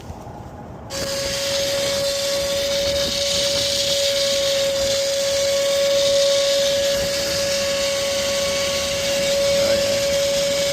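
A vacuum on a hotel rooftop switches on abruptly and runs with a steady high-pitched whine and airy hiss, sucking water continuously out of an HVAC conduit without pause.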